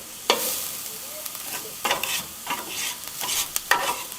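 Cajun-rubbed steak pieces for a Philly-style cheese steak sizzle and scrape in a hot pan, with several sharp stirring strokes breaking through a steady frying hiss, close and alone with no talk.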